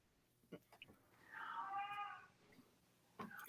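A house cat gives a single drawn-out meow, faint and indoors, with soft scattered clicks around it and a voice starting at the end.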